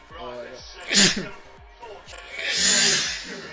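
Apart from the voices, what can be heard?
sneeze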